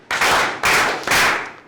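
Students in a physics class clap for themselves in three quick bursts of applause, each a loud crackling flurry of hands that fades slightly before the next, indoors in a classroom.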